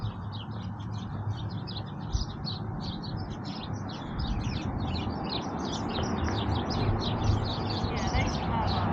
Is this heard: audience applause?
no